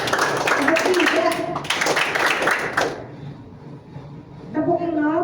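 A group claps in quick bursts of rhythmic hand claps, close and loud, with voices speaking in between and after.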